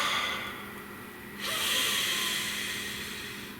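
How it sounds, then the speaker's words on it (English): A person takes one deep breath, a broad airy inhale swelling midway and trailing off softly, close and alone in a quiet room. "Nice deep breath"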